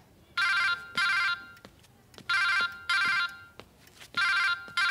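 A telephone rings in repeated electronic bursts, four short rings in quick pairs with gaps between them, clear and close with no talk over it.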